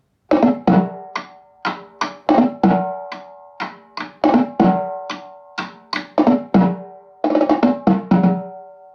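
Tuned tenor drums from a drum circle struck one at a time in a steady pattern, each hit ringing with a pitched tone and quick decay, close and alone with no talking.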